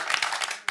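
A theatre audience claps for the warm-up host, a quick run of distinct, fairly close hand claps in an irregular rhythm that briefly dips before picking up again.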